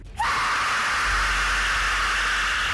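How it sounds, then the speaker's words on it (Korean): An Aztec death whistle, skull-shaped and modeled on the human larynx, shrieks shrill and breathy like a human scream, starting abruptly and holding a harsh, hissing wail without pause. "이 비명소리가 나는 해골 호루라기는 데스 휘슬이라고 불리는데"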